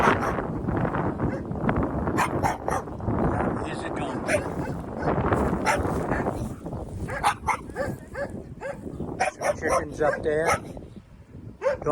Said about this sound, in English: Dog over there barking.